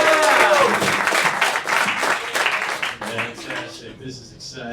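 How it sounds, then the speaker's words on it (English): A comedy show audience bursts into loud sustained applause and cheering for a comedian, fading toward the end. "Make some noise for Tyson."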